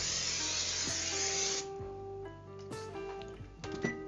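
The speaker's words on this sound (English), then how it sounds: "Take a 9x13 pan and spray it with non-stick cooking spray." Non-stick cooking spray hisses from a can into a 9x13 baking pan in one continuous close burst lasting about a second and a half. It stops abruptly and is followed by faint clinks and tonal kitchen sounds.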